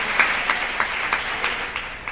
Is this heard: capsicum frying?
no